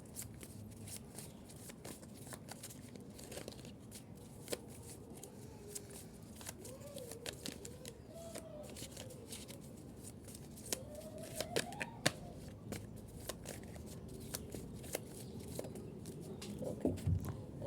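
Tarot cards shuffled by hand, a long run of soft riffling and slapping card sounds with sharper snaps as cards fly out, close and quiet, with a voice speaking faintly over parts of it.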